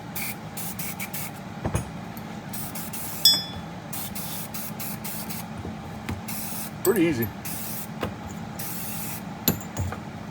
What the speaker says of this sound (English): Now we're going to come back, we're going to hit it with the gun oil.